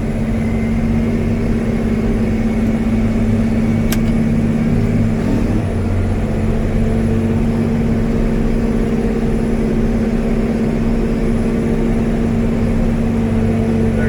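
A John Deere 9620Rx tractor engine in a pull race, droning loud and steady with a deep low hum throughout, a brief shift in tone midway, no voices.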